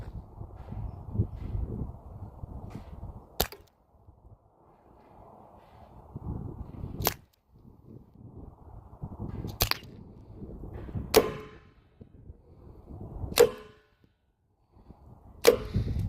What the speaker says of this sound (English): Firing pellets in 3, 2,